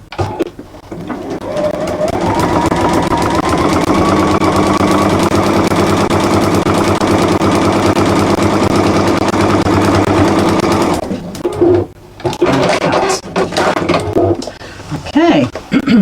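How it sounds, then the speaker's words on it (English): A sewing machine stitches fabric in a long, fast, steady mechanical rattle that runs for several seconds, then stops and is followed by brief handling noises and short bursts. "pop it under the machine, and just stitch as we did before."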